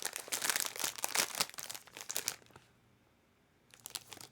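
A small bag of thick-cut, skin-on crisps is opened nearby, producing a burst of sharp crinkling and rustling foil packet sounds that fades to quiet, then a short crinkle returns.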